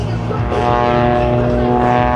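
Propeller stunt plane performing snap rolls at an air show, a loud droning engine with a steady harmonic buzz that swells slightly, while a voice talks over it.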